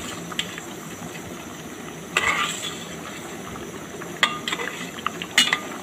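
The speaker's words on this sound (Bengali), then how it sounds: "আবার হালকা নাড়াচাড়া করে দিলাম" Katla fish curry is gently stirred in a pan over low sizzling heat, with a steady soft simmer and a few brief scrapes and clinks of the spoon against the pan.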